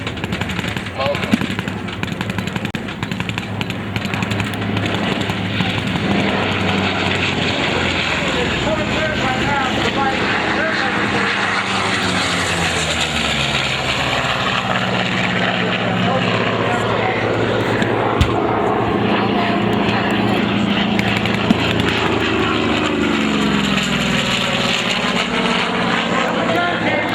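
Loud WWII propeller fighters, a Corsair and a Zero, roar continuously overhead during a Pacific battle reenactment, with engine drone rising and sweeping in pitch, bursts of simulated gunfire, and voices talking underneath.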